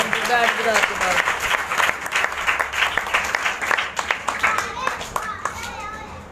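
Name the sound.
applause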